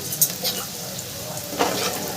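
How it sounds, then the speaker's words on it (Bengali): Fritters sizzle steadily in hot oil, with a few soft clinks and scrapes of utensils over the bubbling. "বড়াগুলো কিন্তু ভাজা হয়ে গেছে এবার আমি বড়াগুলোকে তুলে দিচ্ছি"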